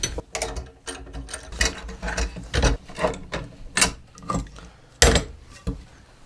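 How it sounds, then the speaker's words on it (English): Clamps coming off a stacked guitar neck heel block made of glued wood layers, giving a series of repeated ratcheting, clicking mechanical bursts at close range with sharp wooden knocks in between and no talking. "the last thing we really need to do about this stacked heel block is take the clamps off"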